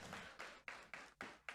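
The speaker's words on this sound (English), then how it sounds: "Please give a round of applause, please." Applause for the CMC president at an Onam inauguration event, heard as faint, distant bursts of clapping that rise and fade in short waves, quiet throughout.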